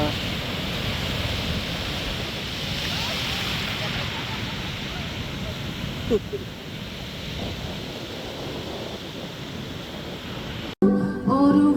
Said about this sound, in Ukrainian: І такий прям шторм.